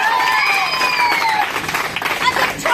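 An audience breaks into applause and cheering at a new-car achiever celebration, the dense clapping and crowd noise carrying close and loud for a few seconds.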